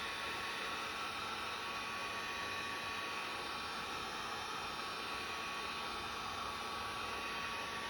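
A heat gun runs continuously on golf club grip labels, giving a steady airy whoosh with a faint high whine. Its level stays even throughout and no one speaks.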